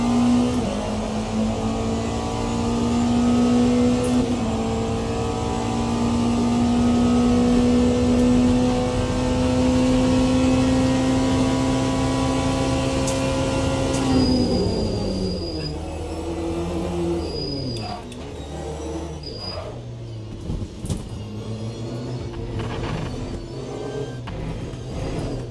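A race car engine in the Le Mans Ultimate racing game holds a loud, sustained high drone, then drops through downshifts into a choppier, fluctuating rasp with brief sharp bursts as it slows and picks up again.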